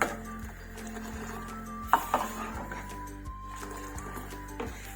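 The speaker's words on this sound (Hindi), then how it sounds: "दूध डालने के बाद फिर इस तरह फेंटें।" Milk being whisked into ginger cardamom tea in a pot, giving soft scraping and light metallic clinks with a sharper knock partway through, steady and close.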